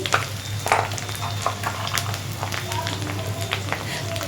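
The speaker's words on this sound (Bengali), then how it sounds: "সামান্য হলুদ গুঁড়ো আর এখানে ধনে জিরে গুঁড়ো মশলাটা ভেজে নিচ্ছে আগে" Turmeric, coriander and cumin powder frying in a pan with a steady, close sizzle over a low hum, broken by scattered clicks and scrapes of stirring.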